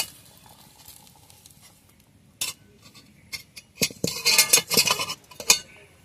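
Fried soybean chunks are tipped out of a pan after a quiet start, giving a burst of close clattering and scraping against metal that lasts a few seconds.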